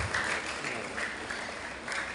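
A crowd claps continuously for a couple of seconds, a dense, even patter with slight swells, heard at a moderate distance.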